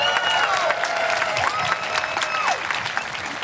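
Audience applause fills a high school graduation ceremony hall in a steady, dense wash of clapping, with a faint tone gliding through in the background.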